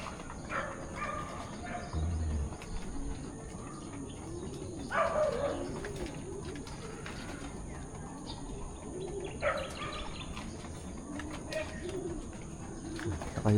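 Pigeons coo softly in a morning backyard loft setting, low rolling calls repeating at intervals amid faint chirps and background hum.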